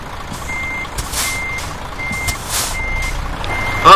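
A truck backs up with its reversing alarm beeping steadily in evenly spaced pulses, a little distant, over a low engine rumble and broadband outdoor noise.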